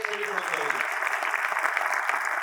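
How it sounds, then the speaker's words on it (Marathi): An audience at an entrepreneurship talk bursts into loud, sustained applause, dense and even, with a voice speaking over it. "जोरदार टाळ्या मिळत"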